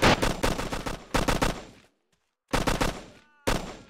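Close, loud bursts of automatic rifle fire in a firefight from the video game ARMA: Cold War Assault rattle in rapid volleys, separated by a short silent pause.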